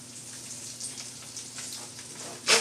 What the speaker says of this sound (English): You should be able to hear it sizzle.